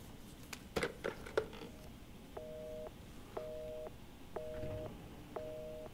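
A telephone being dialed in the video game Resident Evil 7: a few quick key clicks, then four evenly spaced electronic dial tones about a second apart, clean and moderately quiet over a low room hum.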